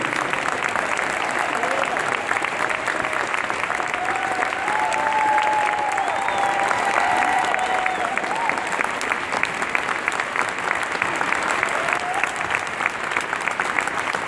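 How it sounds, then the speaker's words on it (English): A large audience at an evening speaker event gives sustained, dense applause that holds steady at full volume for the whole stretch, with faint voices mixed into the crowd noise. "Please first of all join me in giving another warm round of applause to Van Jones, Nikki Giovanni, and Ian Lewis."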